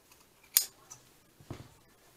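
Scissors trim a fabric tag with two brief, quiet snips a second apart against near silence.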